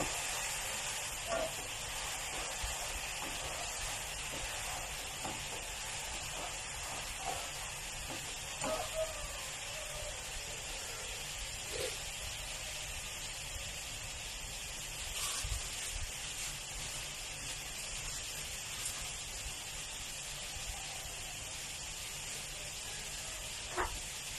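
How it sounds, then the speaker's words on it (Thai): Garlic frying in oil in a pan gives a continuous, even sizzling hiss that holds steady throughout, close by, with occasional faint ticks and clinks. "ใส่กระเทียมลงไปเจียวให้มันหอม"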